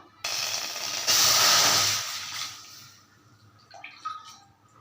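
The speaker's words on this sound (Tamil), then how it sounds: "அதுக்கு ஒன்றரை பங்குக்கு தண்ணி ஊற்ற போகிறோம்" Water poured from a vessel into a pan of rice flour for idiyappam dough, a loud rushing splash for about two seconds that thins out, followed by a few scattered drips and small clinks.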